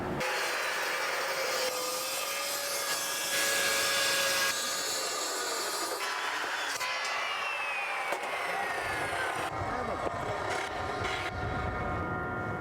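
An Evolution multi-material chop saw cutting through steel, a loud continuous whining grind with shifting pitch as the blade bites, steady and close with no talk.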